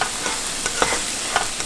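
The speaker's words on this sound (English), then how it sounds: "Gonna saute it till it's nice and fragrant." Grated ginger and garlic sizzling in a hot pan as they saute, with soft scraping stir strokes tapping at intervals over a steady frying hiss, close and alone.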